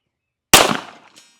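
One sharp, loud video-game gunshot cracks out of total silence, decaying quickly with a brief metallic ring trailing after it.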